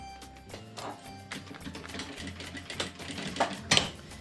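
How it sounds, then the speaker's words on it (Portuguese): A sewing machine stitches along a fabric edge for a child's preschool backpack, a fast rhythmic mechanical whirring with short bursts and clicks, close and fairly quiet, with no talk. "A nossa antena e fazer uma costura à beirinha."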